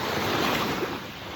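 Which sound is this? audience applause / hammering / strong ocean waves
strong ocean waves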